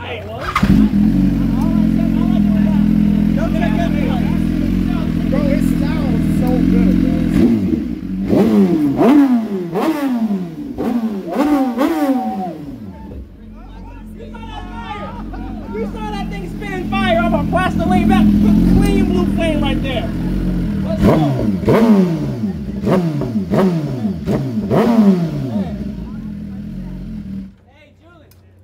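A BMW S1K motorcycle running on plastic-derived fuel revs repeatedly, close and loud, with sharp rising throttle blips over a rough idle, while someone talks throughout.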